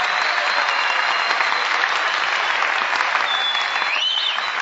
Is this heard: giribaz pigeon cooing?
no